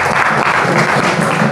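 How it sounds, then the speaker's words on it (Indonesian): Children in a classroom clap together in a loud, dense burst of applause that holds steady from start to finish. "Ayo kita tepuk tangan."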